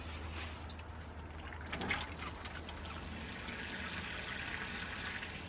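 Water is poured into seed starting mix, which soaks it up, making a steady, soft trickling hiss that runs continuously at moderate loudness, with a slight surge partway through.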